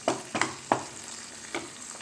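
Mushrooms sizzle in a hot pan for mushroom Manchurian, with a low frying hiss underneath and several soft scraping stirs at irregular intervals, close and moderately quiet with no talk.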